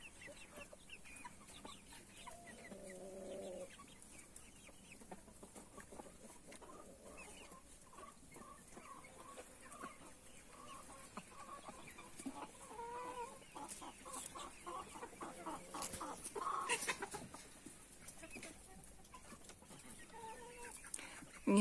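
Adler silver crested chickens, hens and roosters kept on a small farm, cluck softly in scattered bursts, fairly faint and close, with occasional quiet talk underneath.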